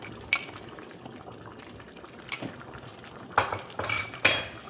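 Tanchut soup with fish and pepper stirred in a pot, a few clinks and scrapes of a spoon against the metal over a quiet low simmer, close and sparse, no talking.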